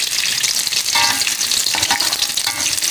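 Ground spice paste sautéing in hot oil for beef bone soup, a dense close crackling sizzle with stirring scrapes, loud and continuous with no talk.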